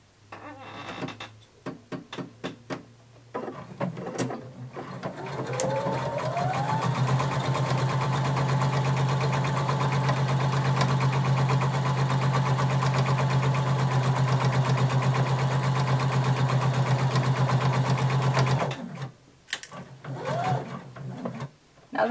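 A sewing machine runs a long continuous straight seam at 2.5 stitch length on a Simplicity 1283 garment, a steady mechanical whir for most of the stretch, bracketed by brief handling clatter at the start and end.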